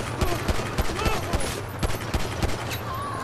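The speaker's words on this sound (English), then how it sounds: "I'll shoot somebody." Rapid gunfire from the video game GTA V rattles in a dense, loud volley of repeated shots spaced through the whole stretch, over steady background game noise.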